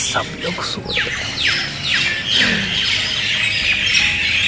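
Many birds chirp and squawk together in a busy chorus, sharp sweeping calls overlapping continuously, fairly loud and near.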